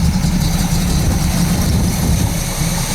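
A 1969 Pontiac Firebird 400 HO V8 with a 4-barrel carburetor and long branch exhaust manifolds runs loudly and steadily at a rough, rumbling idle, close up, with no talk over it.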